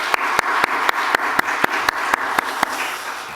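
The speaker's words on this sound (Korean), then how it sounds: "우리 모든 영광 하나님께 박수로 영광 올려드리겠습니다" A church congregation claps in unison on its 39th anniversary Sunday, a steady rhythmic beat of about ten sharp, evenly spaced claps against a soft room hum.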